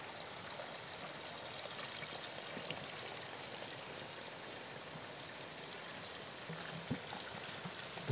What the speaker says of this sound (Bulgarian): Сега ще си напълним чиста планинска водица.